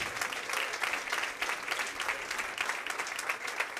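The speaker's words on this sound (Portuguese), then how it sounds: "Pode aplaudir, gente." A church congregation at a thanksgiving service bursts into steady, dense applause, many hands clapping together throughout at a fairly even level with no voices standing out.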